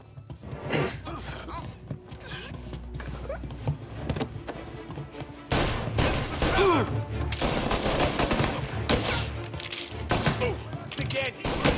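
Gunfire in a Mafia Definitive Edition shootout, with bursts and single shots crackling throughout and growing denser and louder in the second half, mixed with shouting voices.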